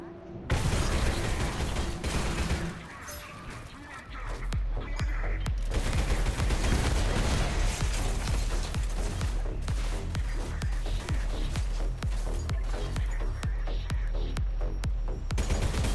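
Rapid, continuous gunfire and mechanical clatter from the Selaco shooter game, loud and dense after a brief quieter start, firing at a grenade.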